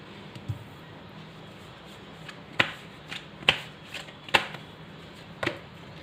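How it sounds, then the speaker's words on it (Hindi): Tarot cards shuffled from a deck, a run of crisp riffling flutters and sharp card snaps at irregular intervals, close by and alone with no speech. "और कार्ड्स निकालते हैं दूसरे डेक से।"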